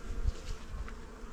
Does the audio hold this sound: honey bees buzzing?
yes